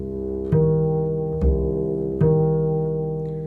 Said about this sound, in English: creating the interval of a 10th, which gives us more of a sound like this for